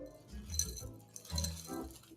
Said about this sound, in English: And then I brought in crushed ice for just such an occasion as this. Go ahead and throw that into our glass.